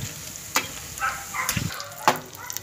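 Paneer bajji fry in hot oil toward golden brown, a close bubbling sizzle broken by sharp clicks and taps of a utensil against the pan, no talking.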